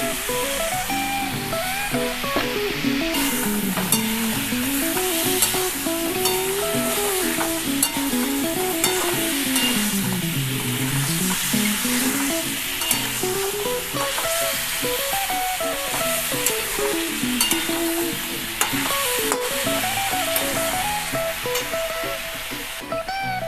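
Chicken pieces sear in hot oil with a dense, constant sizzle and spatter, heard up close beneath a wavering melodic tune playing throughout.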